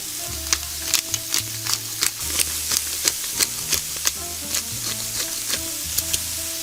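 Onions and carrots fry in a pan with salt and pepper, a continuous sizzle broken by regular clicking scrapes of a stirring spoon, with soft background music underneath.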